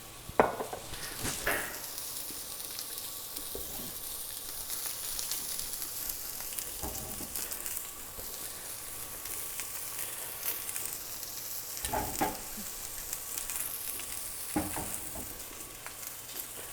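Mushrooms and tomatoes sauté in olive oil and butter in a pan, a dense continuous sizzle with periodic scraping and stirring strokes every few seconds, close and fairly loud, no voices.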